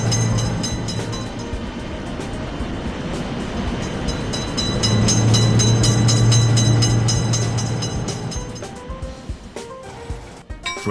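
A game train thunders past a road railway crossing with a steady rolling rumble and wheel clatter, loudest in the middle with a sustained low horn-like tone, then thinning out into scattered clanks.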